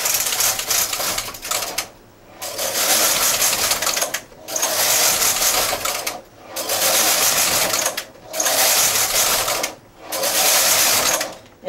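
A domestic knitting machine carriage is pushed back and forth across a cable rib piece, each knitted row a loud, rasping two-second sweep separated by brief pauses, six passes in close succession.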